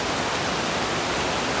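Curug Lawe waterfall at the foot of Mount Ungaran in Java roars as a loud, close, unbroken wash of falling water that fills the whole moment.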